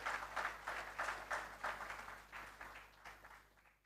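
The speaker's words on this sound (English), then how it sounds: "Ladies and gentlemen, a round of applause once again for Yudia McKay" Faint, distant applause from an audience at the 2024 CXC Regional Top Awards ceremony, pulsing in an almost rhythmic pattern before gradually tapering off toward the end.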